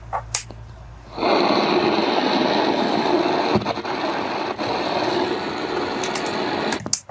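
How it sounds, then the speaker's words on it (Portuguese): Up close, a small driver whirs steadily for several seconds, with faint clicks now and then, as screws are fastened into the case of a Lelong portable radio. "E agora é só colocar os parafusos."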